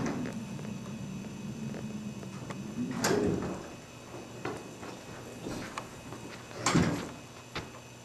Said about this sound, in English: slipped quickly through the glass doors of Victory Mansions.